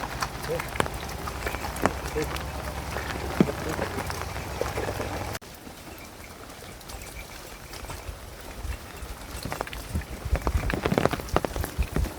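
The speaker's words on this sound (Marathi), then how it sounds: "वरतून थेंब थेंब थेंब थेंब पाणी पडतंय" Steady rain patters and drips from trees onto leaves and surfaces on a Konkan farm, with scattered louder drops; a voice talks briefly in the background.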